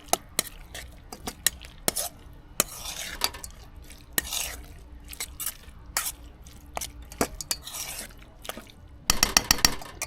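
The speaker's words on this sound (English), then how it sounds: "So we're going to do a couple spoonfuls of that, and then give this a mix." Spoon stirring a dressing of dried chili, oil and red wine vinegar in a bowl, close up, with a run of sharp clinks and scraping swirls and a fast burst of taps near the end.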